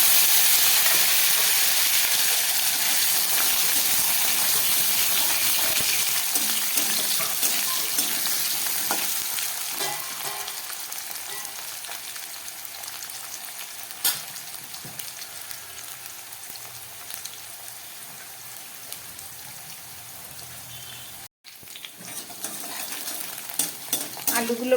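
Potatoes frying in hot oil with bay leaf, cumin, fennel, nigella and a chilli, a steady close sizzle that gradually eases, with occasional clinks of a utensil stirring in the pan.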